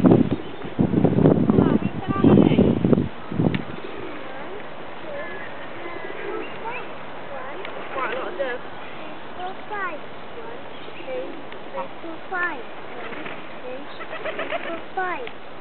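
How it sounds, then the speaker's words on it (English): Pigeons being fed, with soft cooing and light rustling scattered through the scene, faint and nearby under loud bursts of people talking and children's voices at the start. "Look at all my birds."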